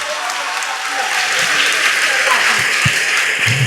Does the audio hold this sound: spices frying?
no